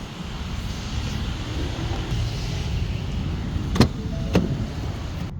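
A van rolls along a road in Weatherford, Texas, with a steady low rumble of engine and tires from inside the cab, plus two brief sharp clicks near the end.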